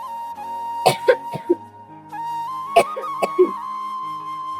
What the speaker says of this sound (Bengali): আসার টাইমে একটু কাশি হয়ে গেছে